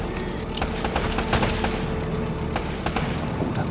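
Gunfire in the Uncharted video game: rapid sharp shots and bursts crackle over a steady, dense rumbling background, loud and continuous throughout.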